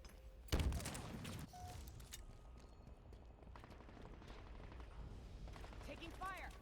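Halo Infinite multiplayer gunfire, a loud close blast at the start followed by scattered rattling shots and bursts over background battle noise, with brief voice callouts.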